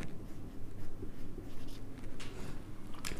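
A pen scratches on paper nearby as an accounting entry is written by hand, in short repeated strokes with brief pauses, with no talk over it.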